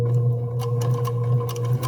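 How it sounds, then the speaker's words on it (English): A sewing machine driven by a foot control starts stitching slowly, giving a steady low motor hum with soft, evenly spaced mechanical clicks of the needle, close and clear. "I'm going to put my foot onto the foot control, and I'm going to very slowly start to sew"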